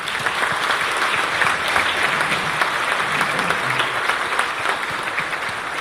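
Audience applause for the inductees at the Arkansas Latino Hall of Fame induction ceremony, a full, even round of clapping from a hall crowd that continues steadily from start to finish.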